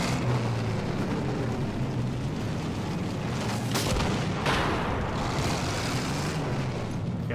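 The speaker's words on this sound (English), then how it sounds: "I shoot them with small arms" Small arms gunfire in the Battlefield 1 video game, heard as dense, continuous rumbling battle noise with heavy low booms and a couple of sharper bursts near the middle, loud and unbroken throughout.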